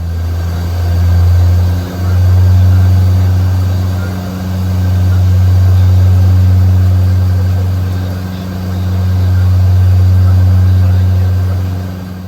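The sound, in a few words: Saab 340B turboprop propellers speeding up to max RPM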